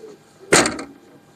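A single solid thump of a car door or boot lid shutting, short and close, in an otherwise quiet setting.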